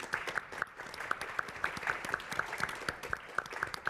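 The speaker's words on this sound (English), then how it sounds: "So please join me in a round of applause for these three folks." A conference audience claps for three panelists in a steady round of applause, mixed with a few sharper individual claps, moderately faint and continuous throughout.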